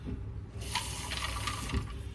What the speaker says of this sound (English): Let me get a little bit more water here.